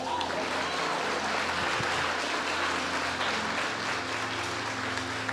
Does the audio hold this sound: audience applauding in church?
yes